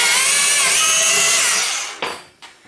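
A cordless drill fitted with a 10mm wood bit bores into wood, giving a loud, steady whirring grind for about two seconds before cutting off, followed by a brief second burst.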